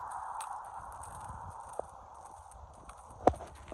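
A seven-year-old ex-racing thoroughbred horse walks, with a few faint, sparse hoof clops over a low steady background hum, one sharper knock near the end.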